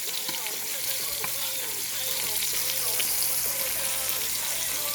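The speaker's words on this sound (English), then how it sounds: "we'll just take the butter that we have and just baste our steak with it" Steak basted with butter in a hot pan with garlic and rosemary, giving a steady, close, bright sizzle throughout with faint clinks of handling.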